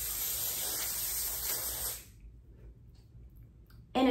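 A steady hiss of hairspray lasting about two seconds, then near silence, ending with a brief sharp burst of noise.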